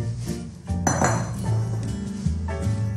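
Two batches of mashed potato being mixed together for gnocchi, with close, loud clinks and scrapes of utensils against a bowl or pot throughout.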